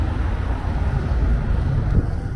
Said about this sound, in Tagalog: Oh, ang hangin talaga.